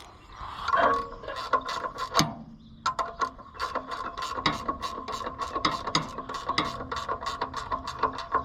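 Ratchet wrench tightening a bolt on an Oliver 880 tractor, a long run of rapid metallic clicks in quick bursts, close and fairly loud, with no talking.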